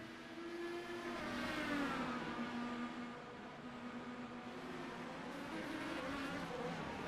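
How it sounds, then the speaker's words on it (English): IndyCar race cars accelerating at Barber Motorsports Park, a continuous layered engine drone with several overlapping pitches rising and shifting as cars pass, steady and moderately distant throughout. "Wanda is losing spots to other cars on harder black tires"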